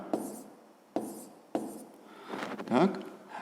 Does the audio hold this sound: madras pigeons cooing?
no